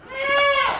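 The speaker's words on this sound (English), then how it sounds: "Are you playing with your baby goat?" A baby goat lets out a single loud, close bleat, a wavering nasal cry just under a second long.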